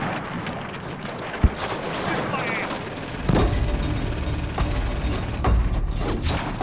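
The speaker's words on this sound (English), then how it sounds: "Americans are pinned down by mortars and machine guns no matter where they go." Battle sounds from the WWII fight for Mount Yaetake, with scattered gunshots and sharp cracks over a dense rumbling din that swells into heavier bursts and thuds, loud and chaotic.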